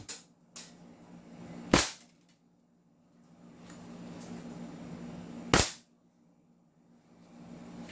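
A G18 airsoft pistol fires two sharp, loud snapping shots several seconds apart, with a few fainter clicks and handling noise between them.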